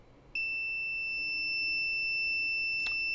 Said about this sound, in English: So I will put the meter in beep mode.